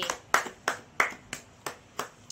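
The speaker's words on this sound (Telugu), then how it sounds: "క్లాప్స్ నిక్షితకి." Seven crisp hand claps in a slow, even rhythm, close and clear, cheering Nikshitha's exam marks at home.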